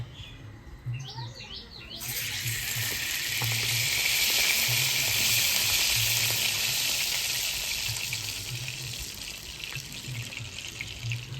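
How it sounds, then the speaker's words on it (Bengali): Mustard oil heats in a wok for jujube pickle, a loud steady sizzle that starts abruptly and holds, with a faint low background hum and no talk. "এবার আমি আচারটা বানিয়ে নেব কড়াইতে সর্ষের তেল দিয়ে দেবো"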